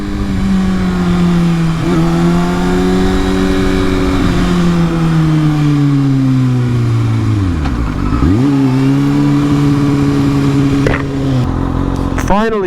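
A 2019 Kawasaki ZX-6R sport motorcycle fitted with a Yoshimura Alpha-T exhaust runs loud and close, its engine note holding steady, dipping sharply around the middle as it drops off and rises again, then revving up near the end.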